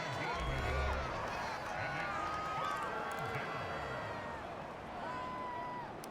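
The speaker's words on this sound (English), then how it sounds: "The crowd getting into it as we come up on a big 3rd down." A stadium crowd in a Madden football video game murmurs and cheers as a big third down approaches, a steady roar of fans under a commentator's voice and game music.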